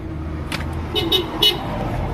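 A passing car gives several short horn toots, spaced about a second apart, over a steady low rumble of road traffic.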